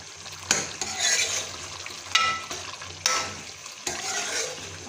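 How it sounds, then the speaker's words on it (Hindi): Chicken pieces fry in a pan while a spatula stirs them in repeated scraping sweeps over a continuous sizzle, close and fairly loud, with no talking. "चिकन को हम फ्राई कर लेते हैं।"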